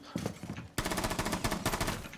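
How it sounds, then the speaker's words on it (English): Rapid bursts of gunfire and blasts from an online shooter game rattle out close and loud, a dense rhythmic volley that starts abruptly partway through. "Where is that explosion coming from?"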